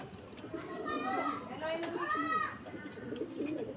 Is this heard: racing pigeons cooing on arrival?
yes